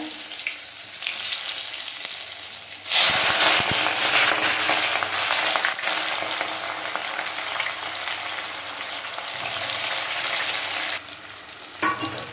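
Slit green chillies and onions frying in hot oil for a Bengali-style chicken pulao: a loud, dense sizzle surges up after a quieter start, steady and close, with occasional stirring scrapes.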